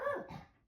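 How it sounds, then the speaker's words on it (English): A dog lets out a single short, upset bark or yelp indoors, close and moderately loud, fading quickly with no talking over it. "apparently my dog's upset."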